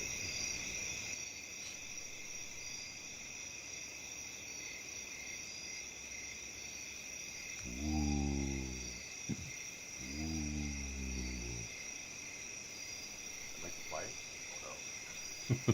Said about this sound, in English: Some really loud crickets.